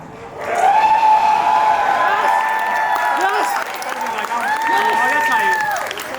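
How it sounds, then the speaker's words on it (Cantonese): Loud applause from a wedding crowd runs throughout, with high, drawn-out tonal whoops or horn-like tones riding over the clapping. "俾啲掌聲"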